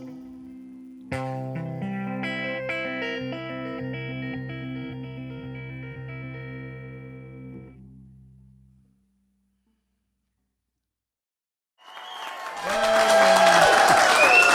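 An audience at a Christmas show breaks into applause and cheering near the end, rising loud after a stretch of music fades into silence.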